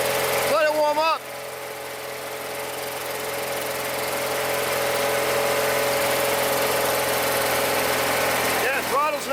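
A Kohler Magnum 20hp engine on a 1980s Simplicity Sunstar garden tractor idles steadily in a continuous mid-pitched drone, with brief voices near the start and end.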